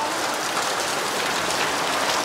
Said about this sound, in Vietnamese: Mưa rất là to